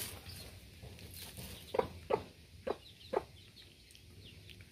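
Mother hen with her chicks: four distinct low clucks spaced about half a second apart, moderately close, over a soft rustling background with faint chick peeps.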